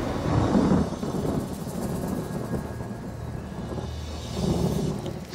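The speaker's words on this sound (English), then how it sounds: "We see storm clouds coming in. Here comes the rain." Thunder from an approaching storm at a camp, a low deep rumble rolling continuously and swelling at the start and end, with no talk.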